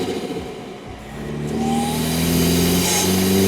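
A 4-cylinder turbo engine in a Toyota 4Runner fitted with an SXTH Element intake revs, the tone climbing steadily from idle to a loud, sustained high-rev whine captured up close under the hood.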